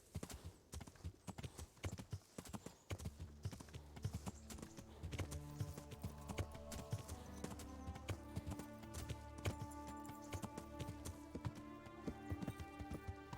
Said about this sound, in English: I found the horse